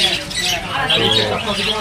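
Caged birds at the Garia bird market squawk and chatter loudly and continuously, a dense chorus of shrill calls close by with talk mixed in underneath.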